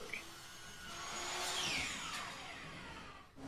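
A woodworking bandsaw runs with a faint, steady whir and a thin whine that swells slightly midway before easing off.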